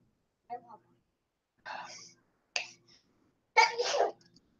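Sneezes and throat noises arrive in four short separate bursts across a quiet room, the last one the loudest and closest.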